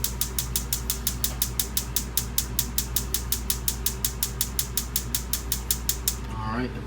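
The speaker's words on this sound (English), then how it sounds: "hold that knob in, and then just hit that igniter" An RV stove's pilot igniter is clicked repeatedly in a fast, even series of sharp ticks, about five per second for six seconds, over a low steady hum. A brief soft whoosh follows.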